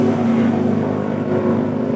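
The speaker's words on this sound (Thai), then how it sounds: "ก็ขออภัยเรื่องเสียงรถมอไซค์ด้วยฮะ เสียงรถติดถนนฮะ" A motorcycle on a nearby road gives a brief, steady engine drone with a low rumble and buzzing tone, moderately loud and close.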